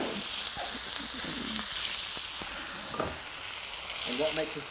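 Three smash burger patties sizzle and fry steadily on a hot griddle at home, a continuous close crackle broken by occasional scrapes and taps of a spatula.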